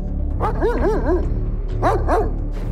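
Guard dogs behind barbed wire at a secured hotel bark in two short bursts, a quick run of barks followed by a pause and then a couple more, fairly close and with no talking.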